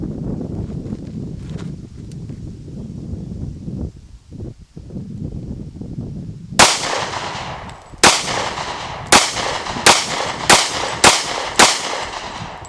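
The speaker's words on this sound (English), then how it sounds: "So we'll go ahead and shoot 3 7-round mags all in a row" Rapid sharp pistol shots from an M&P 40 Shield with a stainless steel guide rod, fired outdoors in quick succession, loud, close cracks following a stretch of low rustling.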